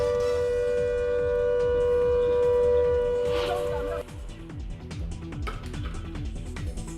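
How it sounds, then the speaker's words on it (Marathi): A mock drill siren wails at Antonio D'Silva school in Dadar as a steady tone that cuts off midway, then a crowd of voices and background activity follow. "दादरमधल्या अँटोनियो डिसिल्वा शाळेमध्ये वाजला सायरन,"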